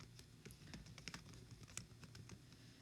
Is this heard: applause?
no